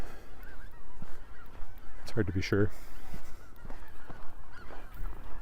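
Canada geese honk several times overhead during a snowy spring lakeside walk in Regina, a short clustered burst of calls midway above steady outdoor ambience, with someone speaking briefly.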